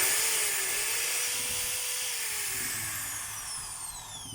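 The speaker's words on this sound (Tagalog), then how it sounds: "Testing natin yung drill." A DWD024 1/2 hammer drill being test-run, a loud steady high motor whine with a rising and falling pitch, heard close and alone.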